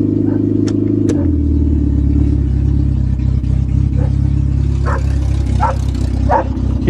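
A 1990 Honda Civic engine idles close by with a steady low hum and a shift in pitch early on, while a dog barks several times in the background and faint voices come through.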